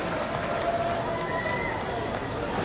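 A cricket crowd at an India versus England women's Test cheers a boundary, making a dense, steady roar of many voices that holds at an even level throughout.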